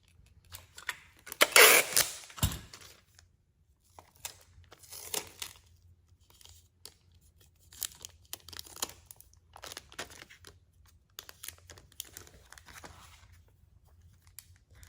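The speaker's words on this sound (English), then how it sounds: "I'm gonna grab onto it with the packing tape" Strip of packing tape pulled and crinkled during a thrifted home decor makeover, with a loud crackling burst near the start followed by scattered shorter crinkles and rustles at close range.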